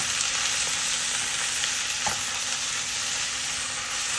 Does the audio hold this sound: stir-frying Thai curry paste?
yes